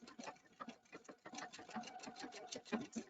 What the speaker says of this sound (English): And now it's stitching the big house.